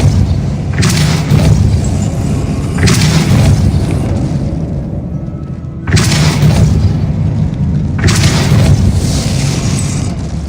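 Spell impacts from the Depulso force-push charm in Hogwarts Legacy land as a series of loud, deep booming blasts, several in quick succession with brief gaps between them.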